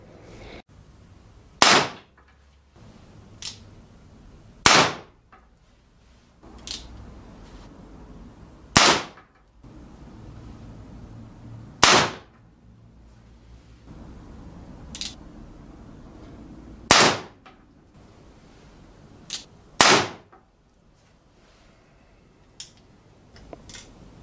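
Percussion-cap revolver fired with an indoor training kit at a target 10 meters away: eight sharp, loud cracks spaced a few seconds apart, each standing alone against a quiet room with a faint steady hum.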